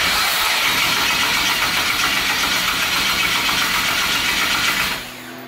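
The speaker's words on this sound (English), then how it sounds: "I'll crank it over and I'll probably count the number of revolutions just so I do it the same on every cylinder" A turbocharged car engine cranks over steadily on the starter during a compression test, a loud, even, rhythmic churning drone that cuts off abruptly near the end, leaving quiet background.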